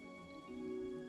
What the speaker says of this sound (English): Also, it's raining, so we're not going to run out of water anyway.